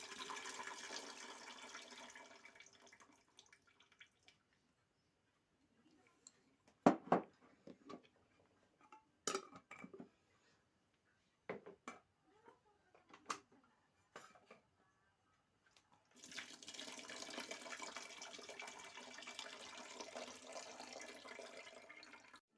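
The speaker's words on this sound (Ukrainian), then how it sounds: "Я зливаю воду з баночок." Water pours and splashes steadily for several seconds as it is drained from jars of cucumbers being canned, then a stretch of small clicks and knocks, then another long gush of draining water.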